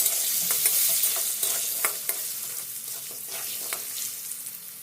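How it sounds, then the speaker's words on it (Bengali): Diced raw potatoes with a teaspoon of salt are stirred in a hot kadai, giving a steady sizzle broken by repeated scraping strokes of the spatula, close and fairly quiet. "এবার লবণ দিয়ে আলুটাকে একটু নেড়েচেড়ে নিতে হবে।"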